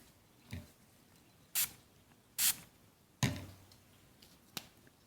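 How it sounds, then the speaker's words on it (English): A spray bottle spritzes a composition book cover during gluing, giving a few short, misty bursts with quiet gaps between them, close and fairly soft. "you can see how that spray comes out. It's real misty like."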